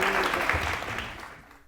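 A studio audience at a televised courtroom-style talk show applauds in a dense, loud wash of clapping that gradually fades toward the end.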